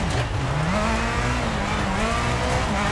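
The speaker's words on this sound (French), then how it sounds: "c'est ce moteur qui hurle à la mort non-stop" Rally car engine screaming at high revs in WRC 24 played in VR, a loud continuous wail that climbs and shifts pitch with gear changes, unbroken through the whole stretch.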